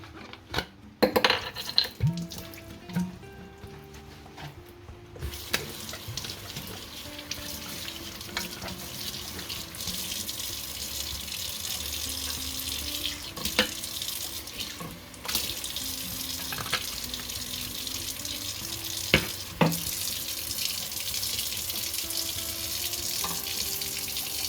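A moldy SodaStream bottle is rinsed under a running kitchen tap, a steady rushing stream of water with occasional knocks and clinks of the bottle against the sink. No one speaks.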